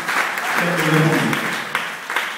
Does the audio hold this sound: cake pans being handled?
no